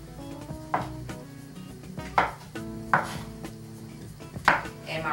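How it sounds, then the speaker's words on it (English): A knife quarters mushrooms on a board while cooking a bell pepper stir fry, giving several distinct chopping knocks at a slow, uneven pace over a faint, steady background hum. "I'm just quartering them. You see, I'm cutting them down the middle and inside."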